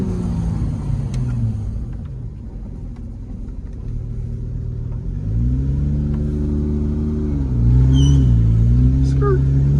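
A straight-piped Porsche GT3 engine rumbling from inside the car, idling low then climbing through several loud revs with rising and falling pitch, while a person talks over it.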